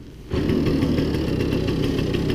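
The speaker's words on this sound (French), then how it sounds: "Donc on va laisser chauffer un petit peu le moteur." A 1962 Paloma Vésuvio moped engine catches after a pedal start and settles into a loud, close, rapid two-stroke idle with a steady rhythmic putter, heard alone.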